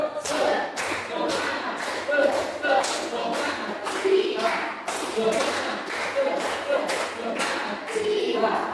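A class of students at a school computer training session does a rhythmic group spirit clap: quick, even bursts of many hands repeating steadily for several seconds, fairly close and loud, with some voices mixed in.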